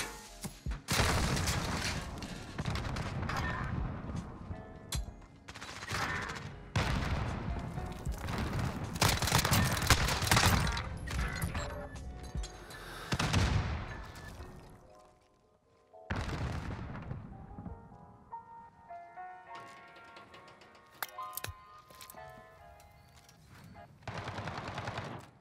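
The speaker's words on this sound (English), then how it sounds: "Please put the Uzis away." Rapid Uzi bursts in Call of Duty Modern Warfare search and destroy, loud repeated volleys of automatic fire with booms and short gaps, a player's voice talking over the action.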